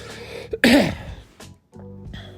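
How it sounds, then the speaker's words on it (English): One short, harsh cough bursts out close to the microphone, followed by quieter throat sounds and a brief pause. "the cough is back"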